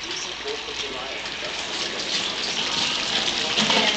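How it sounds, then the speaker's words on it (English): Water gushes steadily into a cooking pot of stovetop barbecue chicken, a continuous close hiss and splash that grows slightly louder toward the end. "put a little bit more water, because this is going to continue to evaporate as it cooks"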